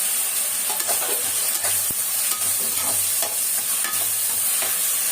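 Tomatoes sauté in a hot pan with a steady bright sizzle while a spoon stirs them, leaving repeated scraping taps against the pan, close and clear, with no talking.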